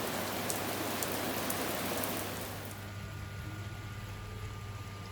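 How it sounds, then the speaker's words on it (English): Dense, steady hiss of rain falling, loud at first and then softening to a gentler patter with a faint hum underneath. "It's raining, so I can't go inside"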